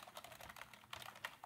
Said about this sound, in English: I'll start typing fast